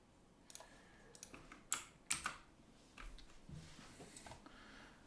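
Computer keyboard typing while writing a Go test method, a scattered run of soft key taps and a few sharper louder strokes in a quiet room, no talk.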